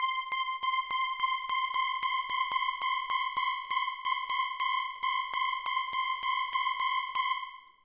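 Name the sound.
high-pitched detuned synth pad on Elektron Syntakt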